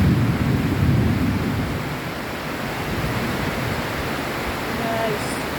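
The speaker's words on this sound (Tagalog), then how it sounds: "Lakas pa ng kidlat guys, pagkidlat-kidlat pa oh." Low rumbling thunder rolls beneath steady rain hiss, loudest at first and then settling into a continuous wash of noise.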